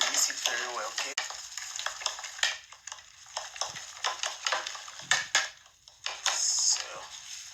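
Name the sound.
mixing egg mixture with nutmeg in a bowl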